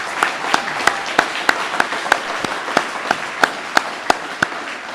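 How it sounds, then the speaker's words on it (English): Applause for award-winning county transit operators at a ceremony: scattered, fairly sparse hand claps in an irregular rhythm, close and crisp. "Let's give them a round of applause."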